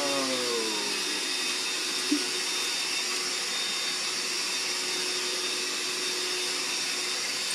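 A vacuum cleaner runs with a constant loud, even whine and airy roar, a brief knock at one point, no voices.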